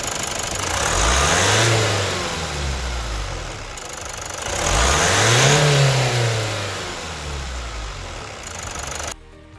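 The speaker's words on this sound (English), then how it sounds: "Start the engine" Mazda CX-5 SKYACTIV-D 2.2 diesel engine revving twice, each rev swelling up and falling back to idle, loud and close with a steady clattering idle between and after.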